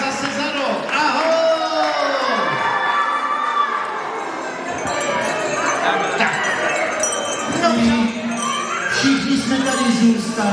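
At a St. Nicholas children's disco, a crowd with many children cheers, whoops and shouts in a lively, echoing hall, mixed with talking, rising and falling over several seconds.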